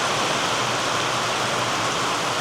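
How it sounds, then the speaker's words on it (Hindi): Heavy rain beats steadily on a tin shed roof in a village garden, and streams of water pour off the roof. The sound is a dense, loud, continuous hiss with no voices. "तो अब थोड़ी तेज़ हुई है बारिश,"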